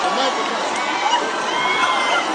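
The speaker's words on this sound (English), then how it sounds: "Listen to the crowd's reaction." A church convention crowd cheering and shouting in reaction, a dense continuous roar of many voices that stays loud throughout.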